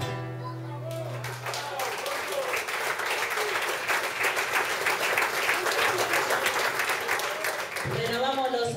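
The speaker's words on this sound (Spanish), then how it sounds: "Renovamos los aplausos para Juancho el Trovador" Sustained audience applause fills a folk music gathering (peña) at a season-closing event, dense and steady for several seconds, with brief voice or instrument tones at the start and end.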